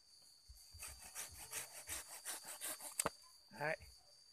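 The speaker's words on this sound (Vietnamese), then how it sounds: "cưa đi các bạn ạ" A handsaw cuts through the root of a potted Sam huong tree being shaped as a bonsai, with about a dozen rhythmic, close rasping strokes followed by a sharp snap and a brief scrape as the piece comes free.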